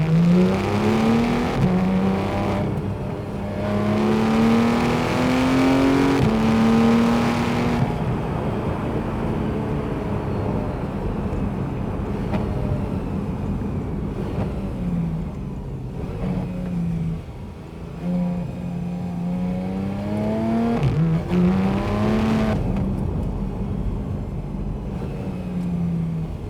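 A Porsche with a PDK gearbox in sport mode revs and accelerates through repeated gear changes, engine pitch climbing and dropping with rev-matched downshifts, loud and close for the whole stretch with no talking.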